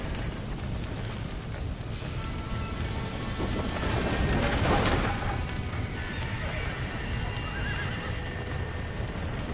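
Horses neighing and galloping in the video game Red Dead Redemption, with continuous hoofbeats under a loud whinny, mixed with rain and thunder-like rumble throughout.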